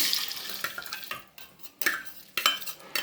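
Tempering spices with asafoetida and turmeric sizzle in hot oil while a spoon stirs and clinks against the pan in short, irregular bursts.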